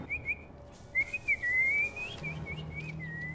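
A man whistles an imitation of a bird call on a mountain road, in a scene with bandits and police: several thin, wavering whistled phrases, the longest one sliding, close and clear over faint low background rumble.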